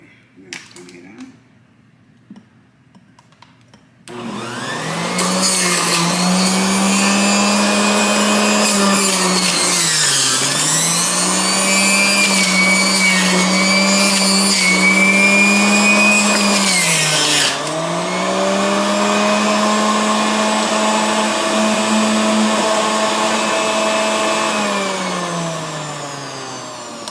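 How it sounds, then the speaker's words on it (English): A Black and Decker juice extractor runs loud and steady on celery, a high motor whine that dips in pitch twice under load before it recovers, after a few faint handling clicks while the machine is off. "next I'm going to do the celery. see how celery. I'm going to turn it on."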